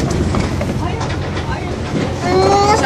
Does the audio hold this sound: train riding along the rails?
yes